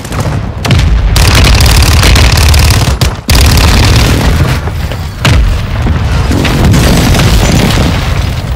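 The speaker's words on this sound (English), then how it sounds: "Hostile airstrike incoming." Airstrike explosions from Call of Duty Warzone 2 roar loudly and continuously, with heavy rumbling booms and sharp cracks, overlapping blasts lasting several seconds with brief dips between them.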